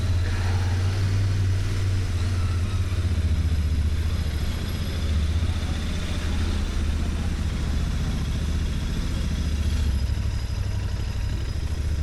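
A Royal Enfield GT650 motorcycle engine drones steadily while riding on a foggy morning, a constant low rumble mixed with wind noise, close and unbroken with no talk.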